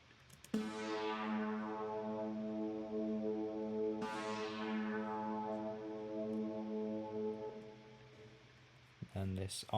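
Sustained Alchemy stock synth pad preset shaped with filter, EQ and reverb, playing two long held chords with bright swept attacks that fade into a reverberant wash, fairly quiet and without voices.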